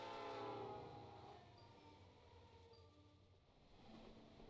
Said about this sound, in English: That's a train sound.